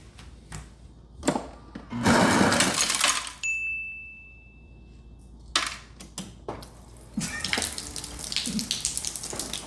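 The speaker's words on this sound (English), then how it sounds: "this fridge, and it's like, it's a typical water, and ice dispenser, right?" Refrigerator water and ice dispenser pouring into a container: bursts of rushing water and rattling, clattering ice come in separate runs, with a brief electronic beep and quiet pauses between them.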